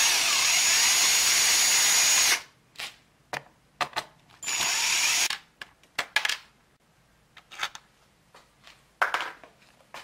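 A power drill backs screws out of a ceiling plate inside a car, with two sustained whirring runs followed by short bursts, clicks and clatter of screws and tools, close and alone.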